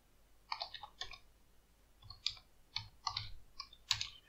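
Typing a pip install command on a computer keyboard, a few quiet clusters of close key clicks with irregular pauses between, no voices.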